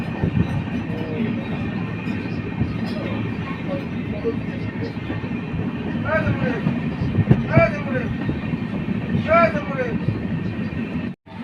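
The Brahmaputra Mail passenger train runs past Goghrapar station toward Rangia Junction in Assam, a loud, continuous rumble of rolling wagons with rising and falling wheel-squeal tones threaded through it and a brief cutoff at the end.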